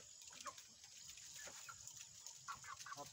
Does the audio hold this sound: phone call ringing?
no